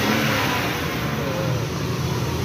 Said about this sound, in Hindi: चल तो ये अल्हम्दुलिल्लाह गाड़ी स्टार्ट हो गई